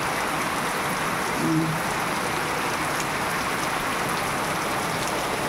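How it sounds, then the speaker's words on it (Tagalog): Steady rain falling in Siargao, a constant dense patter of drops on surfaces and leaves with no other sounds standing out. "umapatak na naman ang ulan"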